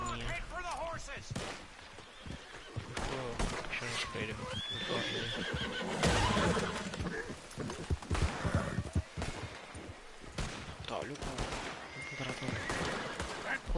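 Horses in the Red Dead Redemption 2 video game whinny and neigh repeatedly over clattering hooves and thumps, while someone talks throughout.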